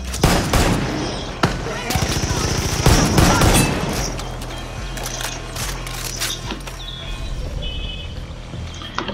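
Gunfire from a gun in Far Cry 5: loud, close bursts of rapid shots and sharp single cracks in the first half, then sparser distant shots over a continuous game backdrop.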